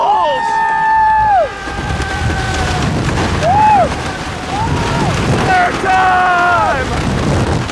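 Front-seat ride on the Comet wooden roller coaster at The Great Escape in Lake George, with loud rushing wind roar throughout and riders shouting and talking over it.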